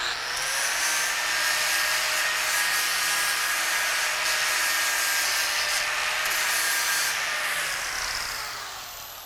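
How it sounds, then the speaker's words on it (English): Hand-held grinder fitted with a flap disc working clamped metal, a steady broadband grinding hiss held close and loud for about nine seconds before easing off at the end. "and that would be using the flap disc."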